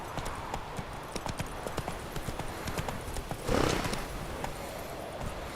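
Repeated hoof clip-clops of a horse galloping in the video game The Witcher 3, steady and fairly close, with a brief louder swell partway through and faint background game sound.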